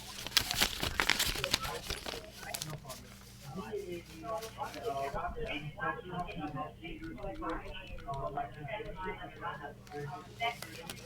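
Paper rustles and crinkles as someone searches through a folder during a phone conversation, the scattered crackles running under a talking voice.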